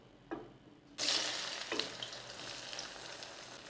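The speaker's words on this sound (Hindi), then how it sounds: "और जिस ऑयल में हमने कोफ्ते फ्राई किए हैं उसी में मसाला तैयार करेंगे। सबसे पहले प्याज डालेंगे इसमें।" Two large sliced onions drop into hot oil left from frying koftas, setting off a sudden loud, steady sizzle. A couple of sharp clatters come first, and no voices are heard.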